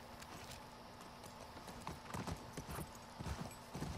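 A horse trots in The Last of Us Part II, its hooves clip-clopping in a steady, close rhythm that grows a little louder toward the end, with game ambience underneath.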